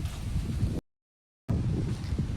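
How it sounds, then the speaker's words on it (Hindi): Strong gusty wind blowing outdoors in a village as a storm approaches under dark clouds, a loud broadband rush buffeting the microphone, cut by a brief silent gap before resuming just as forcefully. "इतनी हवा चल रही है आंधी की तरह"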